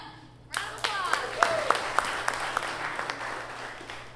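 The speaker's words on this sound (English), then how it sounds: "give it up. Round of applause" An audience at a startup pitch event breaks into applause, a loud burst of clapping with distinct individual claps standing out, fading gradually over a few seconds, with a voice briefly heard over it.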